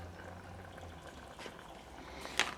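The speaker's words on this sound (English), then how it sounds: "It's boiling, so reduce it to a simmer." Water boils in a camping pot, giving a soft continuous bubbling and hiss with a faint low burner rumble, fairly quiet, ending in a brief sharper clink near the end.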